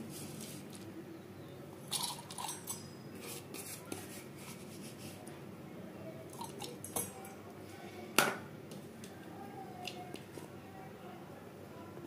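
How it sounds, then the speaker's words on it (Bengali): Fennel seeds tipped into a steel mixer grinder jar in a home kitchen, heard as scattered light rattling and clinks with a sharper clink near the end, against a quiet background. "এবার আমি একটা মিক্সির জারে মৌরিগুলো দিয়ে নেব।"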